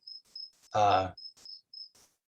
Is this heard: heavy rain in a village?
no